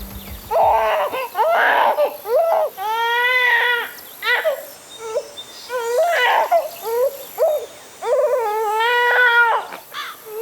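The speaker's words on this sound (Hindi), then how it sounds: "बच्चा रो रहा है यार।" A baby cries loudly and repeatedly in wailing bursts with short breaths between them, close by and alone.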